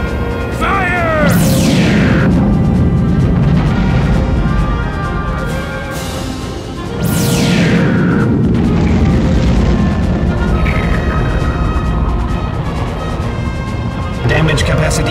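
Spaceship main guns fire in Star Fox Assault, with loud booming blasts and explosions and sweeping laser tones layered over dense game music across the whole stretch, while characters' voices talk in between.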